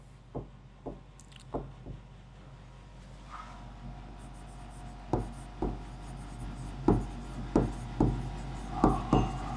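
Handwriting during a physics lesson, a quiet series of short scratchy strokes and taps spaced irregularly over a faint background hum.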